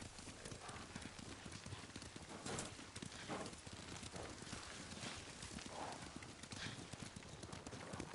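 Horses ridden in the samurai video game Ghost of Tsushima give a steady, rhythmic clip-clop of hooves over a busy outdoor ambience.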